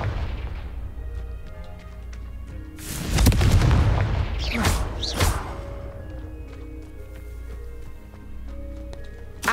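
A booming Confringo spell explosion in Hogwarts Legacy, one big burst followed by a couple of sharp crackling blasts, then fading into quieter ambient game sounds.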